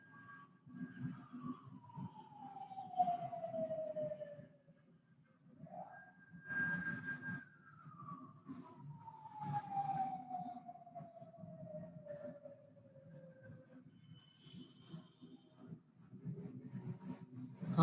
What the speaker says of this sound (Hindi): हाँ भाई एम्बुलेंस जा रही है पीछे से।